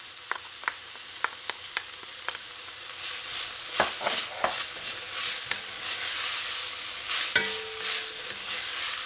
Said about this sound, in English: Just let this saute for like a few seconds, maybe 20, just to help soften those vegetables a little bit